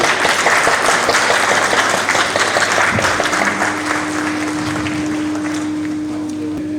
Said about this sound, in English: Let's keep applauding for our guests and dignitaries